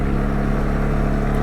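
A 2022 CFMOTO CFORCE 625 L ATV engine drones loud and steady at close range while the machine drives over boulders.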